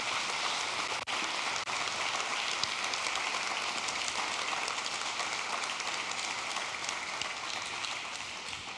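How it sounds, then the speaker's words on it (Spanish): A church congregation applauds in a dense, continuous wash of clapping that holds at a steady level for several seconds, with no speech over it. "levante ese aplauso para el Rey de Reyes"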